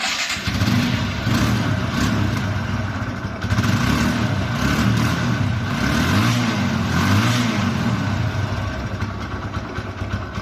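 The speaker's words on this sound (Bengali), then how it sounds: "এখন দেখো বাইকটির ইঞ্জিন সাউন্ড" A TVS Apache RTR 160 motorcycle with a 160cc engine and double disc brakes runs steadily at idle, a loud, continuous low engine rumble close by with slight surges, and no talk over it.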